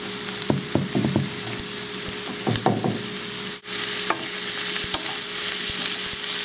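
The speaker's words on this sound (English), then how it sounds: "now that the onions are almost done, I will be adding all of the codfish in there." Chopped onions with codfish frying in a pan for a Portuguese bacalhau a bras casserole, a steady close sizzle with bursts of scraping and stirring clatter and a brief drop in the hiss midway.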